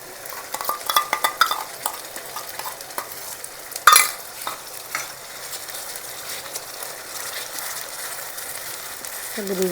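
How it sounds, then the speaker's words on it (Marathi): Masala cooks in a pan while a spoon stirs and scrapes it in quick clattering bursts over a soft sizzle, with one sharp metallic knock midway and no talking. "मसाले थोडासा पाच मिनटं शिजून घेते आपण"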